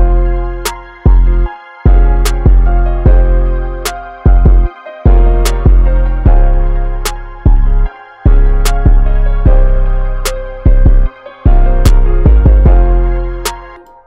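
A trap beat 808 bass loop programmed in Ableton for an emotional trap track: booming 808 notes follow the root notes in steady, repeating bars, with sharp rhythmic hits and brief dropouts before the loop cycles back in.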